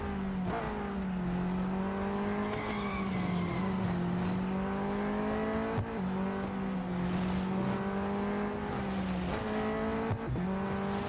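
Race car engines in the mobile racing game Real Racing 3 whine steadily, their pitch rising and falling with gear changes, with tire squeal and other cars passing in the background.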